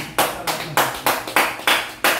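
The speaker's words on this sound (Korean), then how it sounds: "모임에서 박수" Seven sharp, evenly spaced claps ring out in a steady rhythm at a meeting during a lecture, each clap crisp and close with a short decay before the next.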